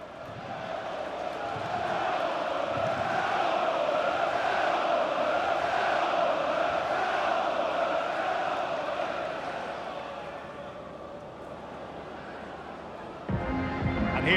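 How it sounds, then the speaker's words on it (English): A packed stadium crowd in a FIFA 20 match between Spurs and Bournemouth gives off a steady, swelling roar and chant that holds for several seconds, then thins out before a sharper burst of sound at the very end. "The crowd are up for it."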